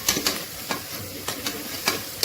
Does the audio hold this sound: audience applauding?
no